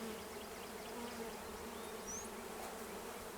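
Honey bees buzz steadily on a hive frame, a dense, even drone close by, with a few brief higher whines from individual bees and no voices.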